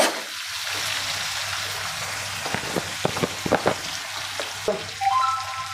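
Chopped onions with a pinch of salt frying in a pan for palak paneer, a steady broadband sizzle with scattered crackles and spatula scrapes, close and fairly loud, with no talking.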